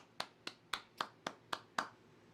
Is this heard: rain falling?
no